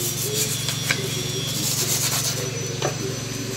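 Steady scraping and rubbing on a VHS tape, continuous for several seconds with a couple of sharper scratchy accents, close and moderately loud with no talking.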